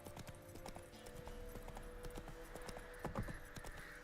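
Rhythmic clip-clop of Geralt's horse Roach trotting in The Witcher 3, steady hoofbeats close up over faint game ambience, with a brief louder flurry near the end.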